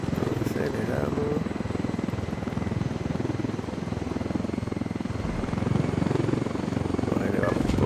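Helicopter in the video game Ghost Recon Wildlands lifting off, its loud steady rotor chop and engine drone filling the whole stretch, with someone talking over it.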